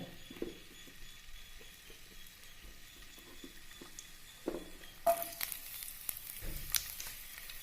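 Garlic frying in a pan for a soya chunks stir-fry, a quiet, low sizzle with occasional clinks and stirring scrapes, a louder burst of spattering partway through.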